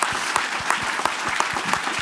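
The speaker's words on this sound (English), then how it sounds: "One more round of applause, please." Steady audience applause at a climate and health symposium keynote, a dense crowd clapping evenly throughout this short moment.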